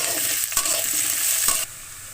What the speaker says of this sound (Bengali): এখন আমি এর ভিতরে দিয়ে দেবো পেঁয়াজ কুচি আর দিয়ে দেবো রসুন কুচি এখন আমি এগুলো সুন্দর করে ভেজে নেব